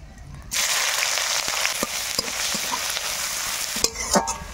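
Chopped onion hits hot oil with dry chilli, cumin and bay leaf, and a loud sizzle bursts in after a quiet start and holds steady under scattered stirring scrapes and clinks.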